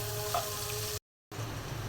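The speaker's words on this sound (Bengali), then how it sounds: "পেঁয়াজটা হালকা ভেজে নিলাম।" Sliced onions lightly frying in a pan for a fish curry produce a steady close sizzle, briefly cut to silence midway before the crackle resumes.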